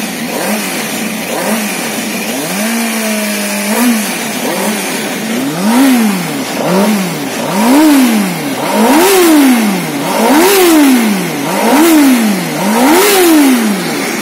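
A 750 cc four-cylinder, 16-valve MV Agusta F4 750 motorcycle with 27,000 km idles and then is revved repeatedly, each blip rising and falling in a steady rhythm of loud, close, rising engine pitch.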